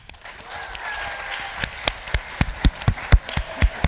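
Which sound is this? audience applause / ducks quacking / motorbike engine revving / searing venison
audience applause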